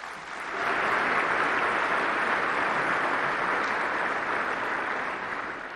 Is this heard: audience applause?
yes